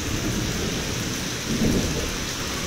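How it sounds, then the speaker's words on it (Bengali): A low rumble of thunder swells briefly amid steady, dense rainfall, with no voices present. "বজ্রপাত আপনারা শুনছেন।"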